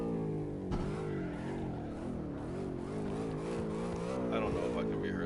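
Car engine droning and revving steadily from the CarX racing video game, with shifting pitch as the car accelerates and slows, and occasional tire noise, loud and continuous throughout.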